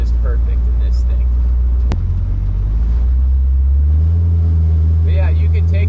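A 1929 Ford Model A hot rod with a 350 Chevy V8 and Corvette rear end cruises around an airport, its steady low engine rumble droning throughout with a brief rise in pitch, while people talk over it.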